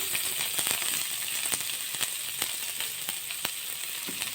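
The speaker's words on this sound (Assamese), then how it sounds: "মিডিয়াম ফ্লেমত দি ক্যাপসিকাম আৰু জ্বলা আছে এইখিনি একেলগে ফ্ৰাই কৰি লওঁ তাৰপিছত পিয়াজ দি দিছোঁ" Capsicum, chili and onion frying together in a pan over medium flame, a steady close sizzle with scattered sharp crackles and pops throughout, no talk.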